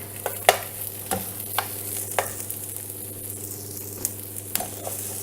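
Bacon frying in a pan over a steady low hiss, broken by several sharp clicks and pops at irregular intervals, close and moderately quiet with no voices.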